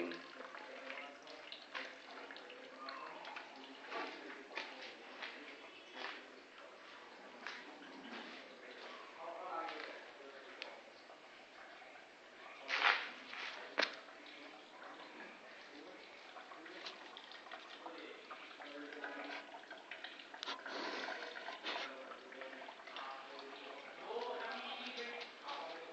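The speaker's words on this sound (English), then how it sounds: "It drained this motherfucker gas tank." Gasoline drains from a generator gas tank as a steady, faint trickling and splashing stream that runs continuously for a long stretch, with a few louder splashes, while a person talks over it.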